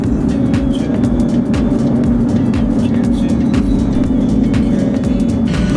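Camper van driving along a road in Abkhazia, a loud, steady engine and tyre roar with rhythmic thumps from the road surface throughout, no talk.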